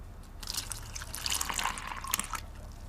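Egg and milk pour into a bowl of pancake mix to make batter, a close wet splashing and gurgling pour lasting a few seconds with no voices over it.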